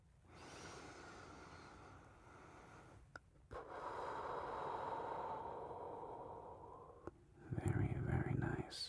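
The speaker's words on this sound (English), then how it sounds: "can you go ahead and give me a nice deep inhale this time?" A child takes a slow, deep inhale during a gentle pediatric breathing exam, a soft airy rush close to the microphone, with quiet whispered talk and small rustles around it.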